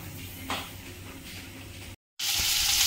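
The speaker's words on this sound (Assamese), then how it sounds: "মাছখিনি আসলতে অকমান আগতে ভাজি ৰাখা হৈছিল এতিয়া অকমান গৰম কৰি লৈছো" Pre-fried fish reheating in a pan gives a soft, continuous sizzle that cuts out briefly near the end, then returns louder.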